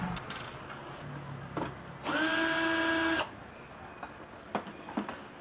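A power screwdriver set to low speed whirs for about a second while backing out a stripped screw from an audio mixer, with light tool handling and clicks before and after.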